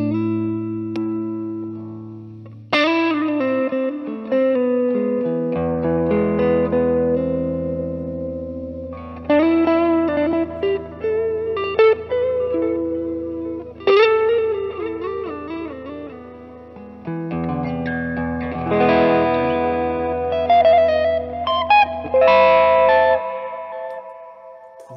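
Electric guitar played through a customised pedalboard with reverb engaged, sustained chords and picked notes ringing out with a wet, spacious tail, loud and steady, with effects-laden layers and brief pauses between phrases.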